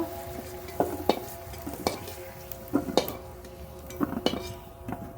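Potatoes frying in mustard oil in a kadai, with a soft sizzle beneath irregular clinks and scrapes of a stirring spoon against the metal, close and fairly quiet.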